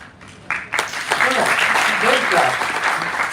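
Applause breaks out in an audience at a SPIC MACAY volunteers' meet, swelling after a quiet start into steady, moderately loud clapping with voices mixed in.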